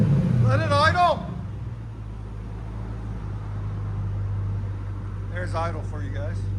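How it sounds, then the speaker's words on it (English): A Mercury Grand Marquis 4.6L V8 with true dual exhaust idles in a steady, low, even rumble that runs throughout, while voices talk over it at the start and again near the end. "There's idle for you guys."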